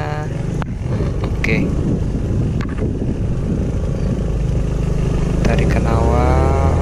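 A Honda Forza 250 scooter with a 250 cc engine pulls away under steady engine drone mixed with wind noise, while a rider speaks over it throughout.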